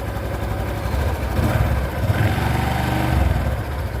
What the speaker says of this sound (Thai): เดี๋ยวเรามาฟัง เครื่องดูนะครับว่าเสียงเครื่องเป็นยังไงบ้างนะครับ